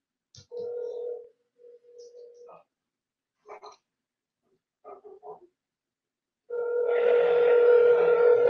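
A telephone is dialed: a few short, separate beeping tones with gaps between them, followed by a louder, steady tone that holds to the end.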